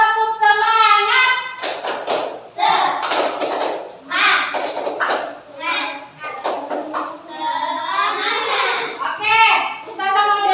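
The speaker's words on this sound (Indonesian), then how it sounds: "Oke, tepuk semangat." A group of children in an Indonesian class performs a 'tepuk semangat' team-spirit chant, voices chanting loudly in unison while sharp hand claps punctuate the rhythm throughout.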